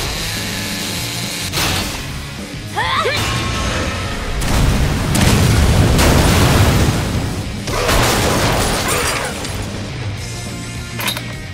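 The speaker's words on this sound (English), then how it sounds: "it sucks when things explode" Explosions in the video game Lollipop Chainsaw, a run of heavy booming blasts and crackling bursts that swell and fade in waves, loud and layered with game sound effects and no talking.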